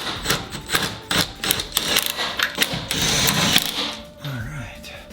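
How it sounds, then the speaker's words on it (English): A Subaru STI trailing arm being bolted to the chassis, with quick close clatters and metallic clicks of a ratcheting tool in bursts, then a voice briefly at the end. "Let's get this trailing arm bolted up."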